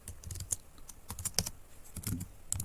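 Irregular clusters of crisp clicks as code is typed on a computer keyboard, close and fairly quiet, with short pauses between bursts and no voices.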